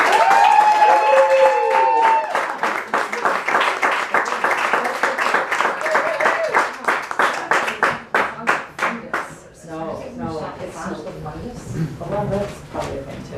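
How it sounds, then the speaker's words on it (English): Audience applause at a poetry salon, a dense burst of clapping that thins into scattered claps and fades out, with talk starting near the end. "One more round of applause for Bridget."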